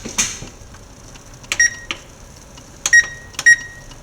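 A kitchen timer being set for rice cooking gives a short series of sharp electronic beeps, single and paired chirps spaced irregularly against a quiet background.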